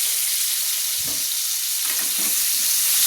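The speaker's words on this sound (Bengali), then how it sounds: "দেখুন আমার আলুটা লাল লাল করে ভাজা হয়ে এসছে" Potatoes frying in hot oil until reddish-brown for an elephant-foot yam and prawn curry, a steady bright sizzle with a few soft stirring scrapes near the end, close and alone.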